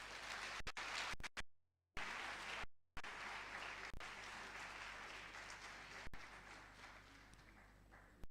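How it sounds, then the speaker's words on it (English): An audience at the Eastern Seaboard Development Skills Revolution Summit 2023 applauds the Minister. The clapping is fairly faint and broken by brief dropouts, then continues steadily. "let's give our Minister another round of applause"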